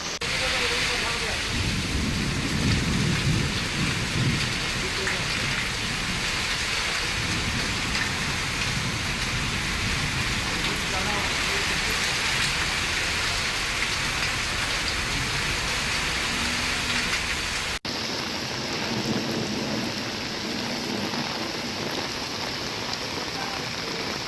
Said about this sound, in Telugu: ఓల్డ్ సిటీ ఏరియాల్లో కూడా భారీగా ఉరుములు మెరుపులతో వర్షం పడుతోంది